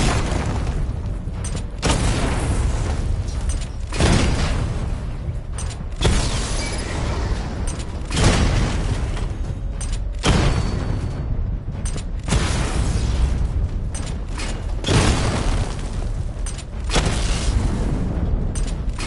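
The Batmobile in Batman Arkham Knight charges and fires its missile barrage, giving a series of heavy booming launches and explosions at roughly two-second intervals with mechanical whirring between them, loud and steady throughout.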